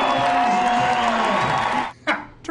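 Baseball crowd at a minor league game with Will Ferrell pitching, a loud sustained roar of cheering and whooping that cuts off abruptly, followed by a couple of brief bursts.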